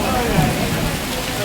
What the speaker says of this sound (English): just the literal sheets of rain that are blowing through here